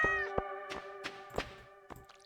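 A cat meows several times in Stardew Valley, short tonal game-style mews spaced apart over soft background music, no talking.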